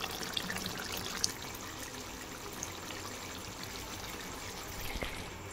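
Water pours in a steady, fairly quiet stream into a pot of cooked, spiced Bengali curry, with a gentle continuous trickle and a couple of faint clinks.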